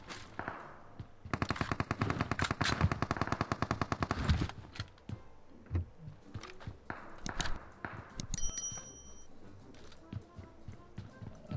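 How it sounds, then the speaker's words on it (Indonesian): Gunfire in PUBG Mobile: a long rapid automatic burst of shots, followed by scattered single shots and footsteps-like thumps, fairly close, with little other sound. "Itu nembak temen gue kayaknya ya."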